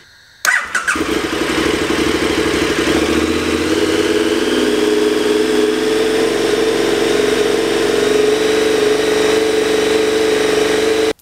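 A motorcycle engine fires up after a short quiet moment and runs loudly and steadily, held at a raised speed around 2,500 to 3,500 RPM with an even, sustained drone until it cuts off at the end.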